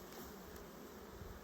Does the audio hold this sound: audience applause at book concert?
no